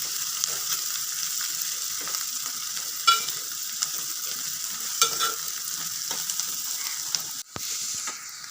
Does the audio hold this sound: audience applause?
no